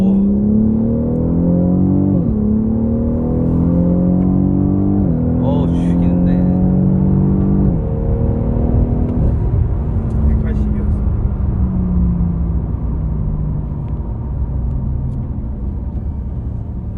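A BMW 760Li taxi's twin-turbo V12 accelerates hard, heard from inside the cabin as a loud steady engine drone whose pitch climbs and drops back several times through gear changes, with brief voices over it.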